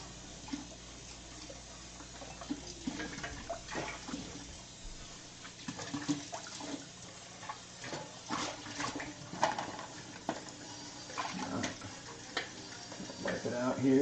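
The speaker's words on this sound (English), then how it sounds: "Come on, hot water, work with me." Hot water runs from a kitchen tap during washing up, a steady soft splashing stream that rises and falls with clatter as items are rinsed, fairly faint and continuous throughout.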